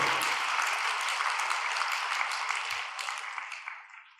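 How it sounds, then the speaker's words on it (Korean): A congregation claps in thanks during a late-night prayer service, a full burst of applause from many hands that gradually tapers off toward the end. "이 깨달음을 가지신 진우이달에게 우리 감사의 박수 올립시다."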